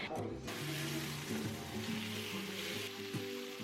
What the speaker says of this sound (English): I am browning these on each side for about 4 minutes each.